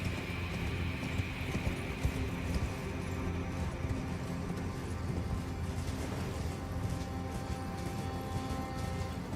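A horse gallops in the Elden Ring: Shadow of the Erdtree video game, with rapid hoofbeats mixed into dense game ambience and no speech.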